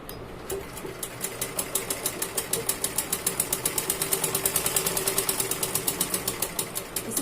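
A sewing machine stitches a blouse button placket in a fast, steady run of even mechanical clatter, close and continuous, with no talk.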